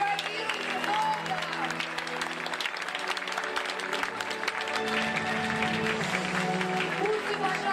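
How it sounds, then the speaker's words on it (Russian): Sustained audience applause at a golden wedding celebration, dense steady clapping throughout with a musical tone and crowd voices mixed beneath. "Аплодируйте долго!"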